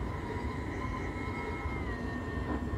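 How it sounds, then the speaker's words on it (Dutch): Train rolling out with power off in the Train Simulator 2022 game: a faint, steady running rumble with a sustained whining tone that drifts slightly lower toward the end. "Zo, laten we de trein nu even lekker uitrollen."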